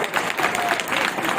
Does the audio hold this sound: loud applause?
yes